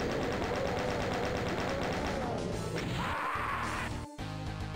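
A chain gun fires in Doom: The Plutonia Experiment, a loud dense stream of rapid shots mixed with crashing impacts and game music, with a brief dropout near the end.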